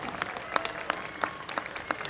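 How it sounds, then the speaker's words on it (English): A small outdoor crowd at a Veterans Day parade ceremony claps steadily, the individual hand claps moderately distant and fairly faint. "let's give a round of applause"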